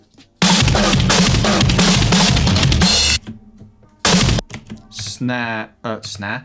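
A dense, loud burst of drums in an electronic track, a fill just before the drop, runs for about three seconds, followed by a short second hit and then some speech.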